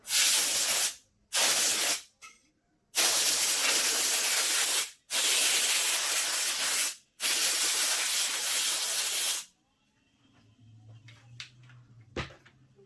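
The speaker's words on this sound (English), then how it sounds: "since all my fans are out, I just recommend dusting them out" Compressed air spray blasts dust out of PC case fans in several long hissing bursts separated by short pauses, loud and close, then falls quiet with faint handling noises near the end.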